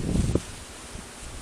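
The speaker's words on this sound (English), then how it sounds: "Wait for the wind to die down a bit." Wind buffets the microphone outdoors on a cold day, with a loud low rumbling gust at the start that eases into a softer steady rush.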